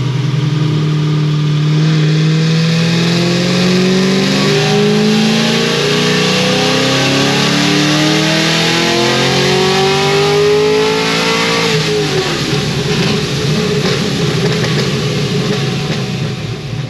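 A Procharger-supercharged car engine revving through a full dyno pull on pump fuel, one long, loud climb in pitch that peaks and drops off near the end, with supercharger whine over the steady engine roar.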